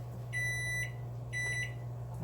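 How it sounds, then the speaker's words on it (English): A kitchen timer beeps while bagels bake, sounding two bright, electronic beep bursts in quick succession over a low, steady oven hum. "there's my timer going off."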